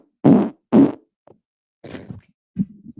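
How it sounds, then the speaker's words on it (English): A loud, close fart comes as two strong bursts in quick succession, followed by a few shorter, rougher sputters, with nothing else around. "triple-decker fart"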